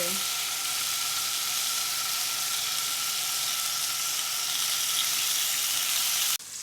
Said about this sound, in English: while my bacon is finishing up cooking